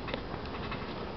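Steady patter of rain falling outside a window, a soft, even hiss of drops with faint ticking, continuous and fairly quiet with no voices.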